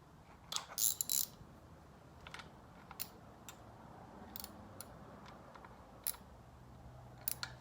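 A ratchet tightening timing cover bolts on a Ford Ranger 2.9 V6 engine, with short bursts of rapid clicking separated by pauses and faint metallic taps, close and alone.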